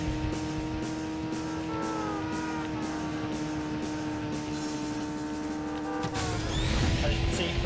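Racing car engine in Burnout 2: Point of Impact, a steady droning whine that holds throughout and rises toward the end with a louder burst of tire or crash noise, with no talking.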